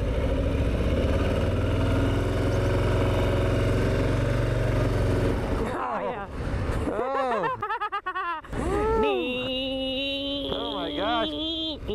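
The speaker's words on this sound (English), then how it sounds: "this bike sounds nicer than the Sport Glide, definitely." A Harley-Davidson Street Bob motorcycle engine idles loud and close, a deep steady rumble for several seconds before it cuts off, followed by overlapping voices talking and exclaiming nearby.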